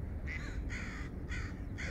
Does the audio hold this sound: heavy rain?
no